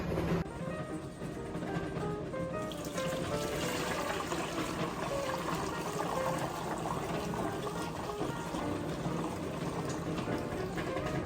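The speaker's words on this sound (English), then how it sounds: "I'm just gonna pour it through here just to get all of the final solids" Hot cider pours through a mesh strainer in a steady, quiet trickle that runs for about eleven seconds.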